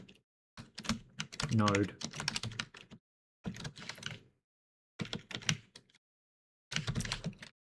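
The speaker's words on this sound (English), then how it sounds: "This is one of those like mechanical versus not mechanical keyboards." Typing on a new non-mechanical computer keyboard, soft clustered key clicks in short bursts separated by pauses, with someone talking over parts of it.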